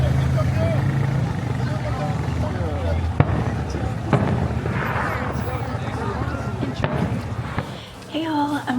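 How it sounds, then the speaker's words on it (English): New Year's Eve fireworks in Florida boom and crackle continuously from a moving car, with sharp close bangs standing out over a rumbling roar of distant bursts. "enjoy those amazing fireworks"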